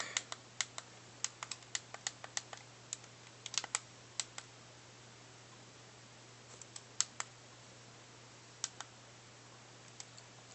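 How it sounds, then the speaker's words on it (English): Sharp, clicky buttons on a Gemei 4GB MP4 player pressed repeatedly in an irregular rhythm, each click close and distinct over a faint steady hum. "Buttons are really noisy and clicky,"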